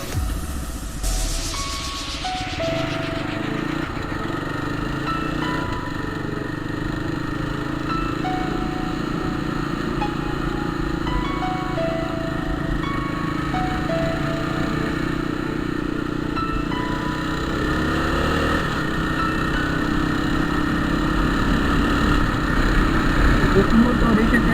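A motorcycle engine runs with a steady, even drone for a long stretch, mid-loud and unbroken, while a rider talks continuously over it.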